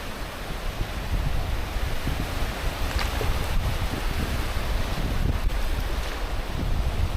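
Sea waves wash onto the beach at Mousuni Island as a steady broad rushing roar, mixed with wind buffeting the microphone, with no voices over it.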